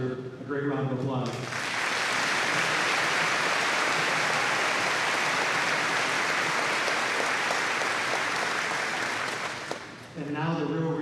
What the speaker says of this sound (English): I think they all deserve a great round of applause.